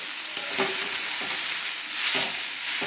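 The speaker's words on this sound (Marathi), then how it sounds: "हा कोबी तुम्ही बिलकुल पाणी न घालता असं फक्त परतवून घ्या." Cabbage is stir-fried in a pan over a high flame with no water, giving a steady, close hiss of sizzling with soft scraping stirs throughout and no talking.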